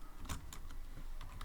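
Quiet, close typing on a computer keyboard, with a handful of soft, irregular key clicks over a faint background.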